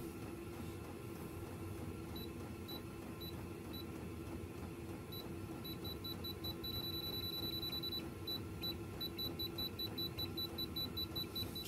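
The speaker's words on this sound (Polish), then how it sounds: "A to pykanie to jest dalej to webastu, które uruchomiłem" Faint, regular high-pitched ticking pulses from a running Webasto parking heater over a low steady mechanical hum, continuing evenly throughout.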